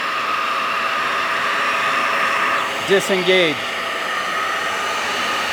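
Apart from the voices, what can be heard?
carpet cleaning machine running with vacuum extraction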